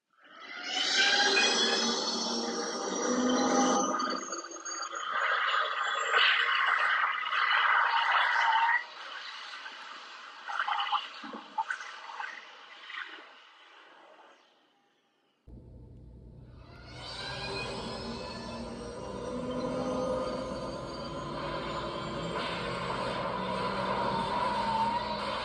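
A flux capacitor replica plays its electronic time travel sound effect, a loud whooshing, rumbling buildup that fades away, then after a brief silence a second steady, roaring hum.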